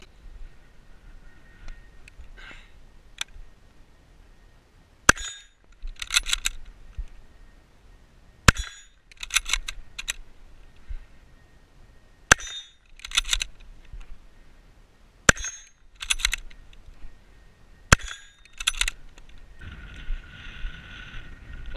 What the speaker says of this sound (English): Watch this bolt work here.